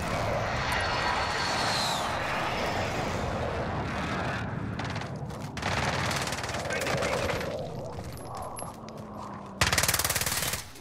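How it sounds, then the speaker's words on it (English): Call of Duty Modern Warfare battle with an airstrike aircraft roaring overhead amid bursts of machine-gun fire, a continuous loud engine rumble with sharp volleys and a final heavy blast of noise near the end. "Be advised, friendly position airstrike inbound."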